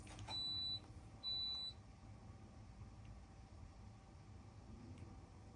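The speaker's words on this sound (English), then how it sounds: "There's a beeping noise somewhere." Two short electronic beeps sound in quick succession somewhere in a house, a clear steady tone each time, then only faint room hiss for the rest.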